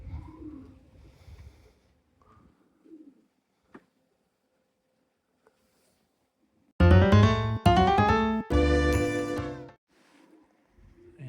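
Pigeons cooing in a short loud burst of repeated throaty calls, after quiet talking and faint background sounds; a voice speaks softly before and after.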